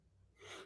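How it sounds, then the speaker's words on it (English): A short, breathy sneeze from someone with spring allergies rises suddenly after a quiet moment, heard faintly and alone. "Bless you."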